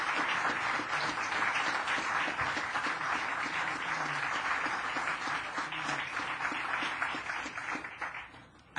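A town council crowd in Barnstable applauds Reed, steady sustained clapping from many hands filling the room, tapering off near the end with no talk over it.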